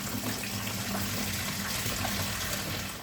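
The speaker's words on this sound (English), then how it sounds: "I'm going to add the juice. Now this stuff will stain, so you want to pour it slow and carefully." Concentrated wine juice pours slowly into a fermenter as a continuous, close liquid rush that stays steady throughout with no talking.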